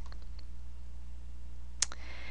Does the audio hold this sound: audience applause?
no